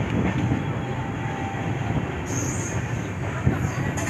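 An Okha–Mumbai Central train crossing the Saurashtra Mail, heard as a continuous broadband rumble and clatter of rolling rail cars close by, steady throughout, with a brief whine and a single louder knock near the end.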